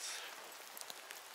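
Rain falls steadily in a forest, a soft continuous patter with a few slightly sharper drops, fairly faint and without voices.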